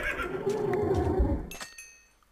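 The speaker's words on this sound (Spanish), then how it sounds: "¡Hola, caballo!" A horse in a Minecraft mod game lets out a loud, close whinny that rises and wavers, then breaks off into a couple of soft clicks and fades to near silence.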